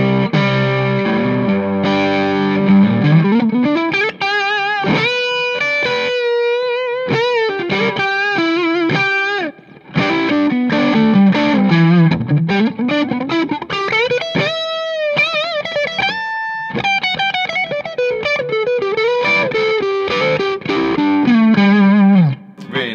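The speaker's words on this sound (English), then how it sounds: "Brand new pedal from them. You can do so many different sounds of it." Electric guitar played through a Hampstead Odyssey effects pedal, a steady run of sustained and shifting notes with a thick, processed, distorted tone, loud and close with no talking.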